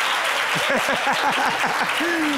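An audience at a children's contest show finale applauds steadily and loudly, a dense wash of clapping with a voice calling out over it.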